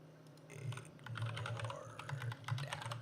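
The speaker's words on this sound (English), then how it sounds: "I swear I can type." Typing on a computer keyboard, quick irregular clatter of keystrokes in close bursts over a low steady background hum, with no voices.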